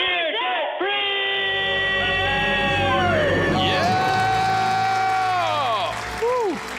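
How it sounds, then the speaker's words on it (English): A live studio crowd screams and cheers for a couple who are now debt free, a loud sustained roar of voices with whoops and shouting that stays close and fills the room. "Let's hear a debt-free scream."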